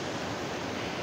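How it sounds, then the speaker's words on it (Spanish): The El Gallito waterfall near Alluriquín and El Toachi, Ecuador, pours in a steady, dense rush of falling water, loud and constant with no voices. "Me gustó mucho esta cascada El Gallito, miren, es agua resplandeciente"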